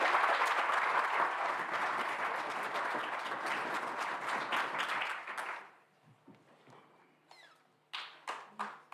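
Audience applause at a memorial lecture, a dense steady round of clapping that fades out around the middle, followed by a few scattered isolated claps or taps.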